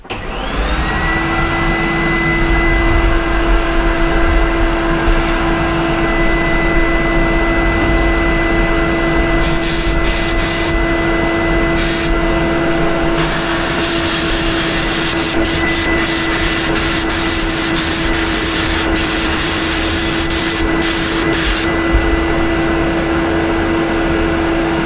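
Blast cabinet shot blasting cast aluminium parts, a loud continuous hissing roar with a steady whine, close and unbroken for the whole span, with brief extra bursts of spray noise partway through.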